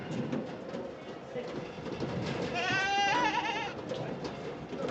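Goats bleat at a livestock auction, a wavering cry rising briefly over the busy crowd noise and an auctioneer's steady talk.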